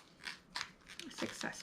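Scissors snip a planner sticker box out of a paper page in a few short, quiet cuts, faint and close up.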